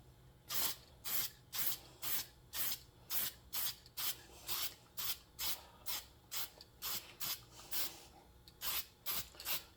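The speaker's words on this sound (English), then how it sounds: "spray this in. I'm going to spray these letters in the same way." Short bursts of aerosol spray paint hiss in a steady rhythm as letters are painted on a Yamaha VMAX scoop, about twenty quick sprays with brief pauses between them, close and clear.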